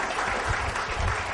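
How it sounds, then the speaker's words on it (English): Audience applause fills a tech conference hall at the close of a web development session, steady dense clapping from many people. "I want one more round of applause for Scott for a great session today"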